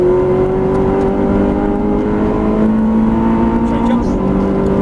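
Nissan 370Z Nismo accelerating on the Thruxton race circuit, a loud steady engine drone rising in pitch as it pulls through a gear, heard from inside the car, with a voice talking over it.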